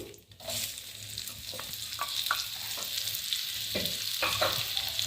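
Raw mango pieces sauté in a pan with a steady close sizzle, broken by several short scraping stirs of a spoon against the metal.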